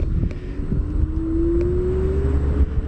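A 2022 Subaru BRZ rolls along slowly at about 15 miles an hour, giving a steady low road and engine rumble with wind buffeting and a faint rising tone.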